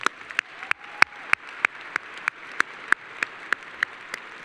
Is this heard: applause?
yes